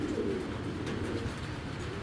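A racing pigeon coos softly, low and close, over a steady murmur of background noise.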